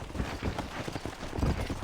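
Horses gallop in the video game Red Dead Redemption, with a steady, fairly quiet rhythm of hoofbeats running throughout and little talk over it.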